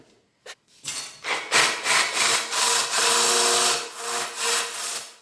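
An electric drill converted into a small chainsaw bites into wood with a harsh, continuous rasping whir, close and loud, starting after a brief click and running steadily for several seconds before easing off.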